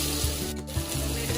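Tomato and onion with salt cooking in a pan, a close, steady sizzle of frying with faint stirring scrapes throughout; no voices.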